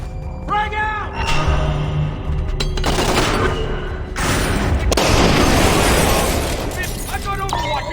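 A frag grenade blast in Splinter Cell: Conviction booms out amid game gunfire, one heavy explosion rolling into a long noisy wash, while voices shout commands over the combat.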